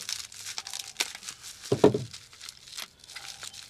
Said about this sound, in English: we got some more bubble wrap to cut.